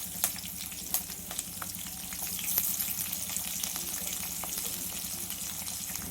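Onion, curry leaves, green chillies and peanuts crackling and sizzling in hot oil, a steady close frying hiss with occasional sharp pops.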